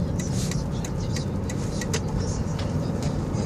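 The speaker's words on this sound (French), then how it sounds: "au moins vous montrer l'accélération de cette voiture" A Cadillac Seville STS with a 4.6-litre V8 drives along with a steady, moderate road and engine rumble, unbroken from start to finish.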